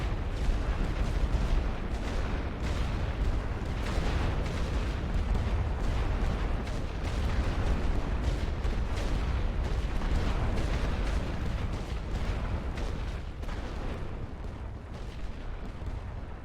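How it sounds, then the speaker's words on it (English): Artillery barrage of gas and explosive shells in the World War I game The Great War Western Front, a continuous heavy rumble of overlapping booms and blasts that stays loud throughout, easing slightly near the end. "Combination of gas and explosive shells all over them"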